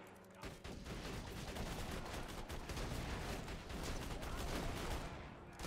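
A deployed turret fires without pause in Borderlands 2, a dense and steady stream of automatic gunfire that keeps up its loudness across the whole stretch of combat.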